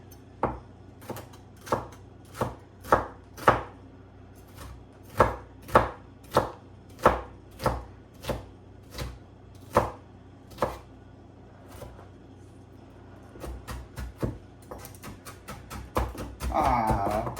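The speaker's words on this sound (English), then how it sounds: "stuff just starts popping off your cutting board when you're chopping" A knife chops a jalapeno steadily on a cutting board, about a dozen crisp evenly spaced strikes, then a quicker flurry of lighter cuts and some shuffling at the end.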